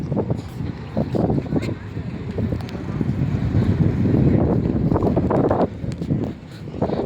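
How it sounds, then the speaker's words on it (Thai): Strong seaside wind along a coastal road in Chonburi, a steady loud roar buffeting the microphone throughout with gusty swells, no clear speech on top. "ลมแรงนะครับ"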